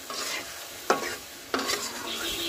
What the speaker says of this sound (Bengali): মাছগুলো দিয়ে কষাবো